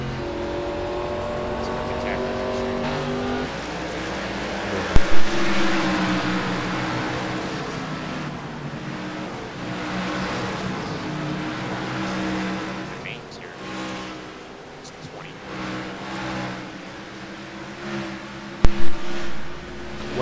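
Race cars in an iRacing ASCA series race hum with a steady engine drone, shifting pitch as they run, with a couple of sharp knocks. Voices chat over it throughout.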